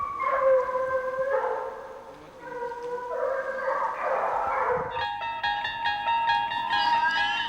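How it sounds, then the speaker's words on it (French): Scent hounds used for hunting bay and howl together in long, drawn-out tonal cries that rise and overlap, a pack chorus of several dogs at moderate distance. "Certains chiens de chasse, tels que les chiens courants, émettent des vocalises afin de renseigner leurs congénères et les chasseurs"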